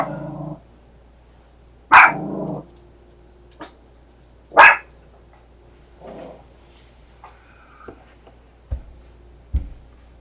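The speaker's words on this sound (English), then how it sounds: "trying to stream and your dog's barking" A dog barks a few sharp, loud times with pauses between, mixed with lower growly sounds and some faint knocks.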